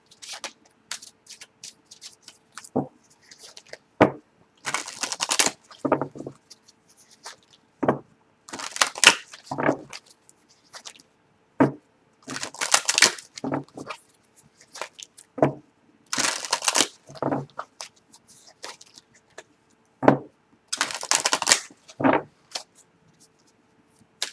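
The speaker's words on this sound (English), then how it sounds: "I'm just going to tune in and shuffle the cards" Repeated bursts of crisp tarot card shuffling, riffles and shuffles coming in short clusters separated by quiet pauses, close and fairly loud.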